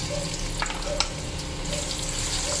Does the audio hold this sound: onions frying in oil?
yes